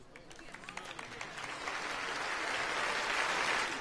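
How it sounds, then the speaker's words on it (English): Applause from an in-game crowd in Final Fantasy XII, swelling from scattered claps into a dense, steady ovation that grows louder over a few seconds. "And everyone claps."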